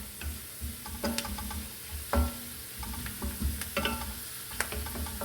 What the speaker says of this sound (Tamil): இது எவ்வளோக்கு எவ்வளோ நல்லெண்ணெயில் வதங்கிறதோ அவ்வளோக்கு எவ்வளோ டேஸ்ட்டு சூப்பராக இருக்கும். நல்லா கிறிஸ்பியாக வதக்கிடணும்.